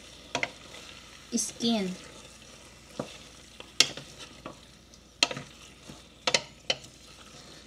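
Pork ribs sauté in a pan with intermittent sizzling bursts and utensil clatters against the cookware, fairly close and moderately loud, while a voice speaks briefly between the stirring sounds.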